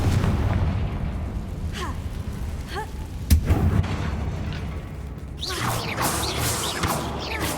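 A Confringo blasting spell detonates in Hogwarts Legacy with a sharp, loud burst and a short crackling tail, set against an ambient game backdrop with a few softer whooshes and pops around it.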